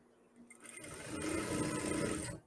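Sewing machine running a rapid, steady stitch along a fine fold in sheer, transparent fabric, starting up after a brief pause and holding a close, even whir to the end.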